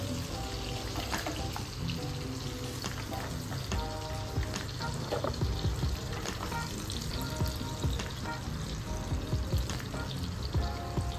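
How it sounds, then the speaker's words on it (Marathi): Chopped onion frying in hot butter, giving a dense, continuous sizzle and crackle with frequent utensil clinks and stirring, up close for several seconds and with no voices. "आता बटर गरम झालं आहे आणि त्यामध्ये मी कांदा"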